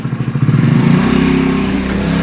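A motorcycle arrives nearby on a rainy day, its engine chugging and revving up close into a loud steady drone.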